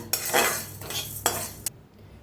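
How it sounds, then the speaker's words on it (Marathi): Urad dal being dry-roasted in a kadhai, heard as a few quick metallic scrapes and rattles of a spoon against the pan, close and brief, with no talking. "उडदाची डाळ घेतल्या बारका चमचा फव खायचा हलकंसं भाजून घ्यायचं"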